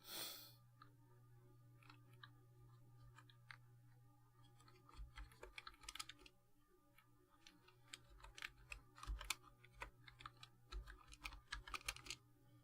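Typing on a computer keyboard, with quick irregular bursts of close, crisp key clicks over a low steady hum and no talking.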